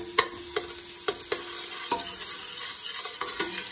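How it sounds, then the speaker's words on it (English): Shallots frying in melted butter in a pot for cream of mushroom soup, a steady close sizzle with several light clinks and scrapes of a utensil stirring, no talking. "The butter's melting. I'm gonna put my shallots in."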